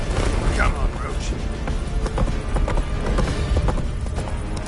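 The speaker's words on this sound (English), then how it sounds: "Come on, Roach" A horse gallops loudly in The Witcher 3, with rapid hoofbeats thudding close by amid battle noise, and people talk over it.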